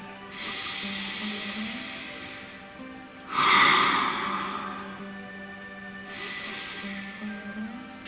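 A single deep breath drawn during a guided full moon ritual, a loud airy inhale-exhale swelling in the middle and fading, over a soft steady background hum.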